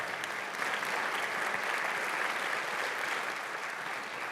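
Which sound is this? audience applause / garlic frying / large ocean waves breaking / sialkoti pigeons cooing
audience applause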